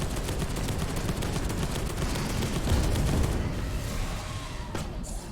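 Rapid automatic gunfire rattles continuously in Space Hulk: Deathwing, dense bursts of shots with a heavier boom partway through, then tapering off near the end; no talking.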